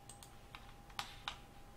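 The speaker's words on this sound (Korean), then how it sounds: "컨트롤 한 번, 두 번 누릅니다" Two sharp key presses on a computer keyboard, Ctrl pressed once then again about a quarter second apart, close and fairly quiet over faint room hum, with softer clicks before them.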